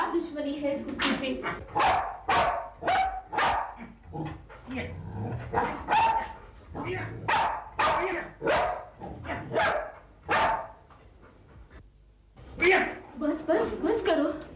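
A dog barks repeatedly in loud, rapid bursts with yips and whimpers, mixed with excited voices of people talking and shouting over it at close range.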